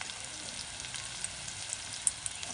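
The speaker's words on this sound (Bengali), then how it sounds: "এবার এসবটা ওর কড়াইয়ের মধ্যে দিয়ে দিচ্ছি, দিয়ে ভালো করে কষে নিতে হবে।" Spice mixture sizzling and frying in a wok for a Bengali dish, a steady dense hiss throughout with small crackles and pops near the end, close and moderately loud.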